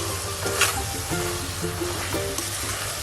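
Fresh coconut barfi mixture being roasted in a pan, a continuous soft sizzle with a spatula scraping and stirring at intervals, close and moderately loud with no voices.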